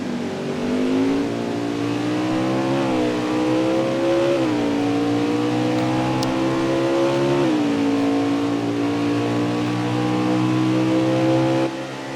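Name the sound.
race cars racing at Mid-Ohio Xfinity race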